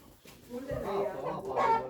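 Hens clucking softly in a short, low run of calls that build slightly near the end, fairly faint and close, with a hint of voices mixed in.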